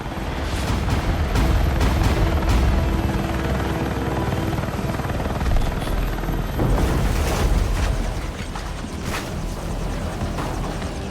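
A military helicopter lifts off in the Battlefield 6 video game on PC, its rotor roar and engine whine loud and continuous, with heavy booming rumbles and distant blasts layered underneath.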